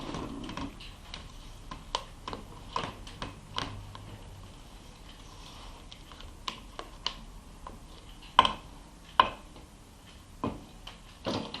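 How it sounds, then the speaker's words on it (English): Chocolate cake batter being mixed by hand, with sparse, irregular clicks and taps of a utensil against the bowl over a quiet background. "Now we mix."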